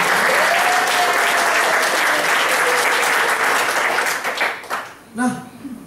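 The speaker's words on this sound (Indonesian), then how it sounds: "Tepuk tangan dong buat Anda semua." Loud, full audience applause carries on for about four seconds, then thins into a few scattered claps and fades as a voice begins speaking.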